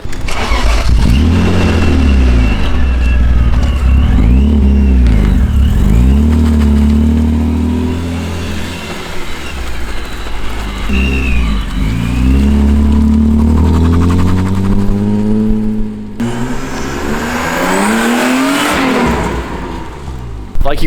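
A supercharged BMW engine revs hard and close, a rising supercharger whine climbing over a deep, rumbling exhaust that surges and drops several times.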